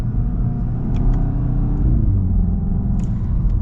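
2024 VW GTI with DSG gearbox pulling in sport manual mode, a close, steady low engine rumble with faint rising revs inside the cabin.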